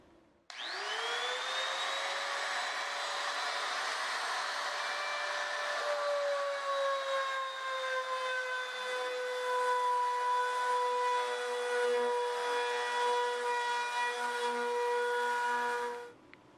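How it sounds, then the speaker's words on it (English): A router trims aluminum wing skins along a jig at the spar of a Bearhawk experimental airplane, a loud sustained whine that spins up sharply and holds steady for about fifteen seconds before cutting off. "I'm going to make a jig and use a router and trim them all in one shot"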